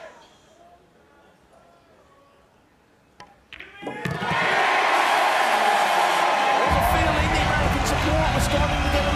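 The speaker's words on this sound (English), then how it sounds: "Let's hear the crowd for a moment first." Crowd at the Mosconi Cup pool event: a quiet stretch with a few knocks and faint talk, then a sudden swell into loud, sustained cheering and applause that holds to the end.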